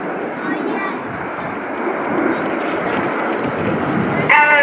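RAF Red Arrows jets flying past at the RIAT 2018 air show with white smoke on, pulling up; a broad steady roar of jet engines, loud and sustained, with wind buffeting and a commentator talking over it.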